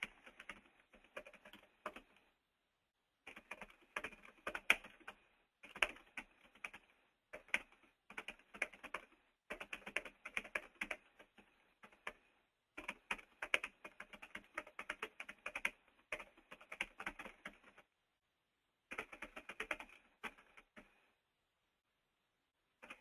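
Close, quiet typing on a computer keyboard while composing an email subject line, bursts of rapid key clicks separated by short pauses, with no talking.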